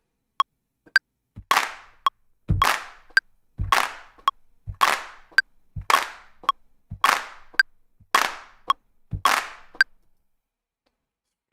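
MIDI drum claps play in a steady, evenly spaced sequence, about ten crisp hand-clap hits with faint tick accents between them, clean and dry against silence.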